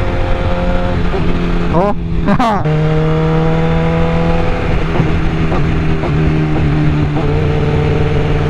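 A motorcycle engine revs loudly up through its range, then the throttle is released and the revs drop back to a steady idle-like drone, with a brief voice over it.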